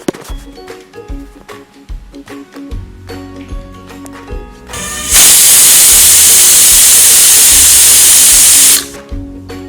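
A pressure cooker lets out a loud, steady whistle of escaping steam for about four seconds while cut kadal pasi cooks with water, preceded and followed by quieter kitchen clatter.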